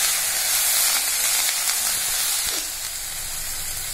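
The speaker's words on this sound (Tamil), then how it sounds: "ஒரு 2 நிமிஷம் கீரையை சேர்த்து வதக்கிக்கலாம்." Spinach greens sautéing in a pan while making ragi adai give off a steady, bright, hissing sizzle with a light scrape near the middle, close and continuous, with no speech.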